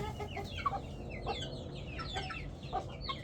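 Chickens of a breed with a naturally drooping, floppy comb cluck repeatedly in a farmyard, with steady, fairly close calls over a constant rustling background.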